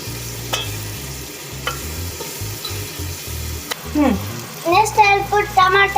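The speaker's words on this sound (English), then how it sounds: "Second, we are going to put ginger garlic paste." Ginger garlic paste fries in a pan while the food is stirred, with a low sizzle and sharp utensil clicks, and a voice talking over the cooking toward the end.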